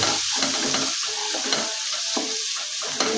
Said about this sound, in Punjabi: ਇਹ ਮਸਾਲੇ ਨੂੰ ਆਪਾਂ 1 ਤੋਂ 2 ਮਿੰਟ ਭੁੰਨੋਗੇ